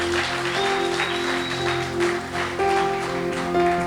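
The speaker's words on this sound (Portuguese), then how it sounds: "Você pode aplaudir ao Senhor por isso?" Church congregation applauding the Lord near the end of a sermon, continuous clapping layered over sustained organ or keyboard chords.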